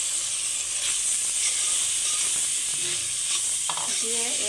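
Chopped papaya with onion, green chili and shrimp stir-frying in a hot pan, a loud continuous sizzle and hiss close up, with a few faint scraping stirs near the end.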